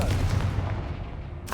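A dense, roaring magical blast from the Confringo spell in Hogwarts Legacy fills the moment, loud and sustained with a rumbling low end and a fresh burst at the close.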